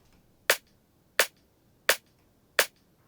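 Modern drum and bass snare synthesized in Vital, four crisp, bright hits struck at an even steady pace, each a sharp crack with a short noisy tail, isolated against near silence.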